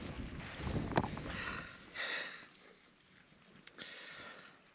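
Wind gusting across the microphone on Tinto Hill while a Nemo Dagger OSMO 2 tent is pitched, a loud rushing roar that swells and eases in waves with faint fabric flutter.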